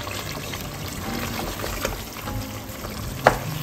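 Free range chicken curry fries in a pan, a low sizzle with scraping stirs and a few sharp clinks of a spoon against the pan, close and steady.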